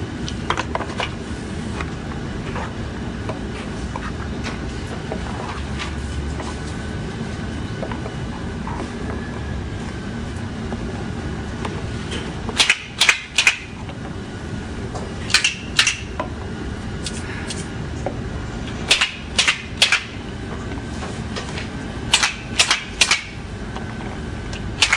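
Small sound boxes are mixed and shaken by hand, giving sharp rattling bursts in quick clusters over a steady background hum, with quieter stretches between shakes.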